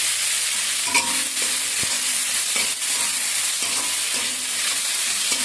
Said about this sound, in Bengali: আমি কাঁচা শাকগুলো সেই তেলের পরে ভেজে নেব